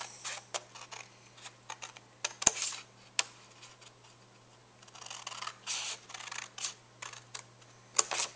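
Paper cut with scissors along either side of a score line on a mini album piece, a series of crisp snips and sliding cuts, close and fairly quiet, with short pauses between strokes.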